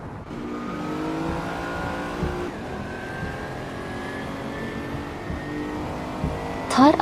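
A 1987 RUF CTR Yellowbird race car in a racing video game, its engine holding a steady high whine that climbs and shifts pitch, with a brief squeal near the end.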